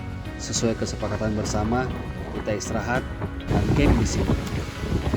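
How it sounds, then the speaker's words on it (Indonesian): Strong wind gusts across a camp on Mount Bawakaraeng, a steady rushing roar buffeting the microphone under a man's close speech. "Sang angin masih saja ribut."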